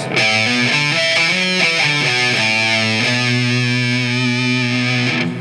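Distorted electric guitar chords ring out through an amp with the presence control turned all the way up, giving a brighter, sharper edge, ending on a long sustained chord, loud and up close.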